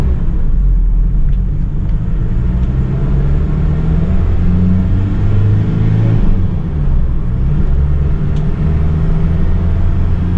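A Mazda Fighter Freestyle Cab pickup truck without a turbo drives along, a steady low engine and road rumble filling the cab as it accelerates, loud and continuous throughout.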